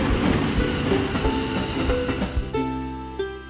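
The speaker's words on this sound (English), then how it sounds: "T is for train." A train passes with rattling wheels and a rolling rumble, then a horn-like tone rings out near the end. The sound is loud and steady and plays alone with no talk.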